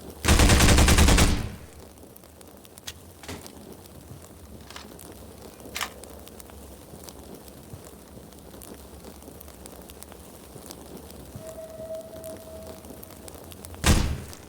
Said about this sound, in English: This looks like a fun gun. I wonder how it reloads. Let's test it out.